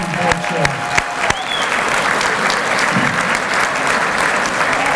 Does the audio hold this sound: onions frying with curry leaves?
no